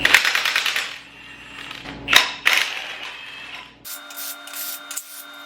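Power tool rattling off the arms of a BMW M30B35 engine during a teardown, in quick bursts of rapid clattering impacts separated by short pauses, loud and close.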